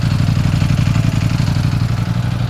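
A 2020 Ducati Panigale V4S motorcycle engine idles steadily up close through its underslung exhaust, a low, even, chugging rumble with a fast regular pulse and no voices.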